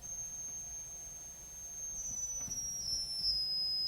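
A thin, very high whistle-like tone from very small pipe organ pipes sustains steadily, stepping slightly in pitch, over a faint low background hum.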